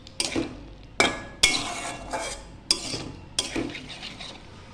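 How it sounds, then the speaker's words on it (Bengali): Potatoes with poppy seed paste are stir-fried in a pan, with five sharp spatula scrapes and clinks against the metal close by and a faint sizzle underneath. "আমি পোস্ত দিয়ে প্রায় 2 মিনিট ভালো করে কষিয়ে নেব।"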